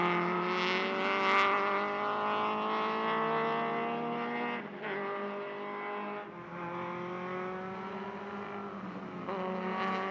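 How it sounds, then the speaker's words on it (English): A high-strung 1.8-liter Mazda Miata race car engine screams at full revs in E Production racing at the 2020 SCCA Runoffs, a dense, sustained whine that dips briefly as gears change and then climbs again. "Love just listening to the sound of these race cars."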